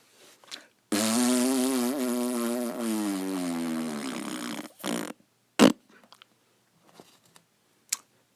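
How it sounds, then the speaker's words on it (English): A long, buzzing, wavering fart sound effect stretches for several seconds, followed by a few short sputtering blasts and scattered quiet pops. "So no more fart sounds."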